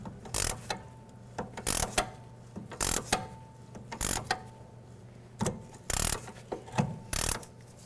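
Rhythmic metallic clicking and scraping of locking pliers working on a rusty sway bar link on a 2007-2012 Nissan Altima, repeated short ratcheting bursts separated by brief pauses, close up with no talking.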